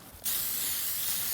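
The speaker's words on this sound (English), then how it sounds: "spray liberally." Amsoil Mudslinger hisses from a spray bottle in a single close, loud, steady burst that starts abruptly after a brief quiet moment.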